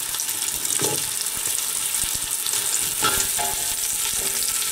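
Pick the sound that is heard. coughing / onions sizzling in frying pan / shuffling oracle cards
onions sizzling in frying pan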